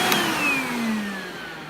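A Hoover Celebrity S3005 vacuum cleaner runs with a loud, steady motor whine whose pitch slowly drops, heard close and alone without any talking.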